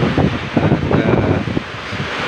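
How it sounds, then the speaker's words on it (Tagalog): Strong typhoon wind in Batangas buffets the microphone as a loud, continuous roaring rush with gusty surges, filling the short stretch without any voices. "Sobrang lakas ng hangin."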